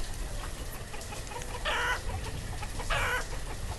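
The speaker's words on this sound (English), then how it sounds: "The chickens are looking good" Chickens cluck in the village-building game Banished, two short clucking bursts a second apart over a steady rustling, windy outdoor ambience, moderately near.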